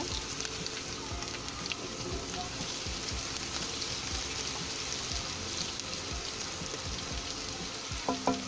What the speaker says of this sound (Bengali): পেঁয়াজের বেরেস্তা বানাবো। এর জন্য আগে তেল দিয়ে একটু ভেজে নিব।